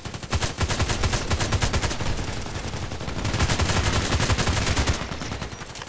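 Rapid bursts of HK 417D assault rifle fire in a video game, loud and close, with sustained automatic strings of shots separated by brief pauses.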